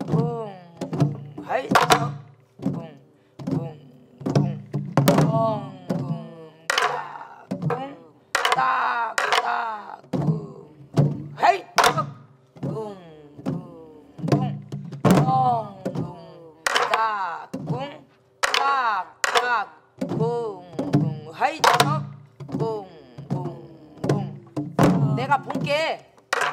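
A Korean buk drum is struck in a pansori drumming lesson in jungmori rhythm: sharp, dull thunks and rim taps in a steady repeating pattern. A voice chants and sings along close by throughout.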